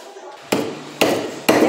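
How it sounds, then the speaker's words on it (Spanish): Three sharp, loud hammer strikes on a brick, spaced about half a second apart, as the brick is chipped and shaped for a wood-fired stove build. "Vamos a seguir cortando este tabique."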